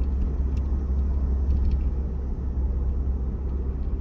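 Road traffic and trucks rumble steadily near a highway exit, a dense low engine drone that stays loud and continuous with no voices.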